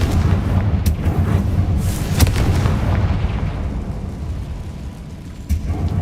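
A Confringo spell explodes in Hogwarts Legacy, a loud, dense rumbling blast with a sharp crack near the middle and a sustained low roar filling the whole stretch.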